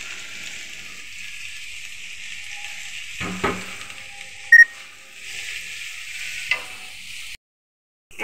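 Bitter gourd leaves frying in hot oil, a steady hiss of sizzling with a few stirring clatters and brief beeps, close and continuous before cutting out near the end.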